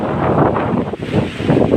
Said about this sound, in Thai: ลมพัดอย่างแรงเลยครับวันนี้